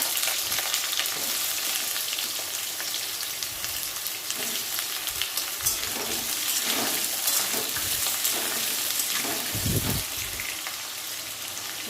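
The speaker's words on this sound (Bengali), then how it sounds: "তো আলুটা প্রথমে ভেজে নেব" Steady, dense sizzling of potatoes frying in hot oil in a wok, with occasional stirring scrapes and crackles throughout, close and continuous.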